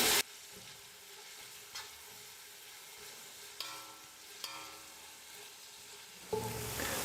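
Sliced onions fry in oil for a pressure-cooker mutton biryani. A soft, steady sizzle runs throughout, broken by a few sharp scrapes and clinks of a spoon stirring the pan, with a louder stir near the end.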